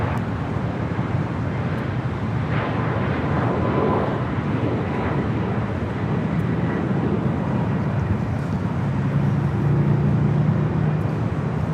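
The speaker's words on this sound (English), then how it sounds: "Next arrival on the north side is JetBlue 523 coming up from JFK. It's a A321 Neo." A JetBlue Airbus A321neo airliner arriving at LAX from JFK gives a loud, steady broadband roar that holds throughout, with no voices over it.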